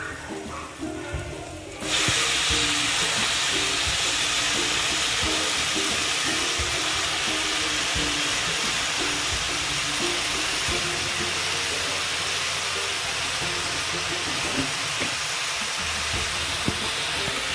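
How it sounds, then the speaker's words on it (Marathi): Chopped red amaranth greens drop into hot oil already frying onion, chili and garlic, setting off a sudden loud, steady hiss that holds evenly for the rest of the moment. "आता यामध्ये आपण जी भाजी चिरून घेतली आहे लाल माठची ती घालूया"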